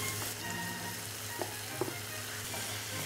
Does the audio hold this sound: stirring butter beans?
yes